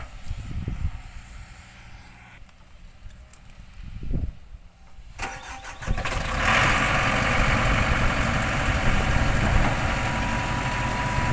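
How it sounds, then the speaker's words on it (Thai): A SANY SY200C excavator at a muddy construction site where it is bogged down; its diesel engine starts up around the midpoint with a couple of cranking bursts, then settles into a loud, steady rumbling idle. "สียงเครื่องยนต์ดังขึ้นแล้วครับ"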